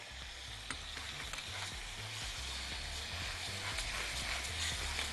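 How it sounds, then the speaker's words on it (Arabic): Rice is stirred in a frying pan with onion and garlic, a spoon scraping and tapping steadily against the pan over a soft continuous sizzle, close up and fairly quiet. "واقلب الرز مع الكلام ده"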